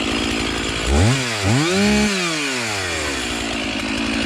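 A chainsaw bore-cuts into a storm-damaged red oak trunk, its loud engine revving up and down in sweeping pitch changes before settling into a steady, close whine.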